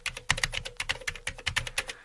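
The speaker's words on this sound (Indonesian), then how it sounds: "tolong ketik naskah ini dengan cepat" A manuscript is typed quickly on a keyboard, a dense run of close, crisp key clacks at an irregular fast rhythm with no talk.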